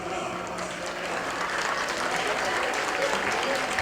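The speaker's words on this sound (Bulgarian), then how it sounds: "Вашите бурни аплодисменти за Кенан и Семра." Wedding guests applaud at a ceremony as the groom's parents are welcomed, a broad wash of clapping that swells steadily over several seconds amid crowd murmur.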